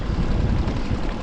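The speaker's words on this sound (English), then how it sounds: "Wind is starting to kick up." Steady wind roaring over the open sea around a small fishing skiff off San Diego, a loud continuous low rush buffeting the microphone, with no voices.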